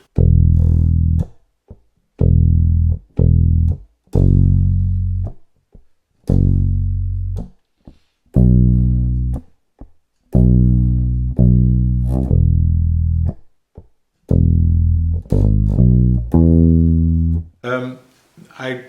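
Loud, close bass guitar notes played in short phrases separated by brief silences, ending with a quicker, brighter run.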